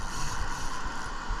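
A fishing reel's drag gives a loud, fast, continuous ratcheting click as line pulls out, close and steady, with no talking over it.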